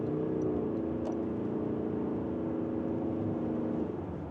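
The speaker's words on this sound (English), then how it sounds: "you hear the rough engine droning even on mild accelerations like this" The engine of a 2025 Toyota Crown Signia Limited hybrid drones steadily and roughly as it accelerates at about a third pedal, a low, buzzing hum that holds for several seconds.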